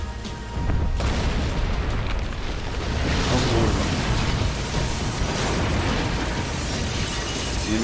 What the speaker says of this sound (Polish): Ja myślałem, że mnie zabił ten wybuch przez chwilę